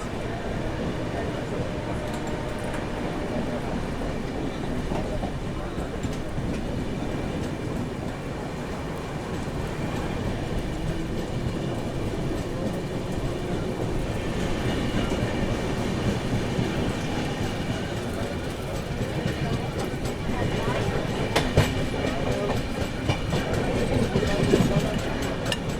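Purushottam Express pulling out of Mirzapur station from platform 2, running in sleeper class with a steady, close rumble of wheels and clickety-clack of the rails, a constant loud roar building slightly toward the end, with occasional voices.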